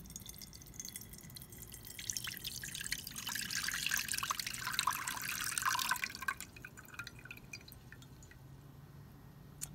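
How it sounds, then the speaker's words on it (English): Cold filtered water poured over kava, a soft wet trickling and dripping that swells in the middle and then tapers off, fairly quiet with no talking. "So I have 2 cups of cold filtered water. And I'm going to pour it over"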